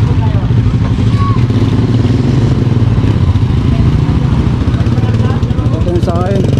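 Motorcycle engines idle and rev close by with metallic clatter as motorcycles board a ship in Romblon, while people talk over the rumble.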